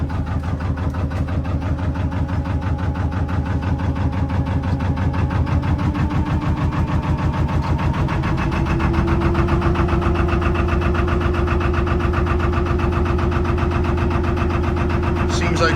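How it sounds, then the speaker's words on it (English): A narrowboat's diesel engine runs steadily with a low, rhythmic throb, its tone shifting slightly partway through as it is put into gear, close and continuous with no speech over it. "Just started the engine, seems okay at the moment. Let's engage the gear and see what happens."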